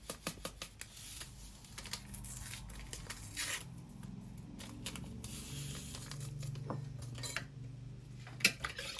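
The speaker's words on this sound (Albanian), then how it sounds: "Do i trazojmë mirë të gjitha" A utensil clicks and taps quickly against a bowl while crepe batter of eggs, melted butter, salt, sugar and vanilla is stirred, a close, rapid, uneven clatter with no talking.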